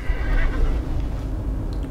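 Horse in the horror video game Layers of Fear, neighing once in a loud, close whinny over a low rumbling background.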